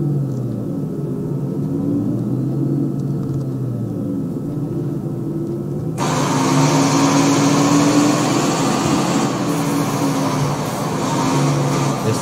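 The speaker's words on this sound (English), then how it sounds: "The sound of the bus is really nice." A Marcopolo G8 bus engine in Euro Truck Simulator 2 hums and rumbles steadily, with a brighter, louder whine joining halfway through as the motor revs up; no talking.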